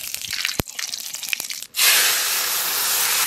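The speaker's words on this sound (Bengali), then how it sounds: "জিরে তেলের মধ্যে দিয়ে বাইজে উঠে রাখো" Cumin seeds drop into hot oil and burst into a loud, sustained sizzle after a second or so of scattered clinks and small kitchen noises, the hiss holding steady to the end.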